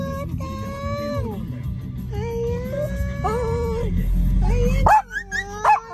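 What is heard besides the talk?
many dogs barking at a dog run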